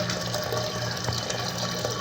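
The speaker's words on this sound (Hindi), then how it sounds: "ये अभी खोला मैंने, पानी अभी आना शुरू हुआ" Water rushes steadily into a toilet cistern through an opened float valve on an English-style commode, a continuous close hiss and gurgle of filling with no pauses or talk.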